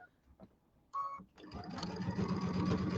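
A sewing machine with a walking foot stitches through quilt layers, a steady close mechanical whir starting after a brief burst and continuing without pause.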